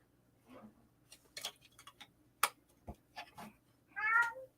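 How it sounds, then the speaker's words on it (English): A cat gives a single clear meow near the end, close but fairly quiet, preceded by scattered faint ticks and clicks in an otherwise quiet indoor room. "I hear you, you dumb cat."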